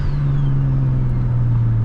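A single-turbo BMW 335is runs after warming up, its engine holding a steady, loud, close drone with a low hum and no voices.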